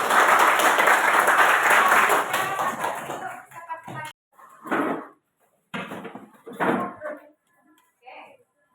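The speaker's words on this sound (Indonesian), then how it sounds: "Tepuk tangan dulu untuk" Classroom applause fills the opening three seconds as a dense burst of clapping, then fades, followed by scattered knocks and thumps with a voice speaking between them.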